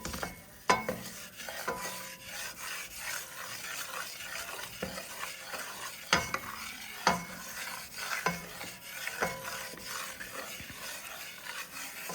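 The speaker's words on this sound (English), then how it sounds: "stirring constantly is the key" A roux stirred constantly in a hot pan, the utensil scraping in an irregular rhythm with sharp knocks against the pan over a soft sizzle. Close and fairly quiet, with no voices.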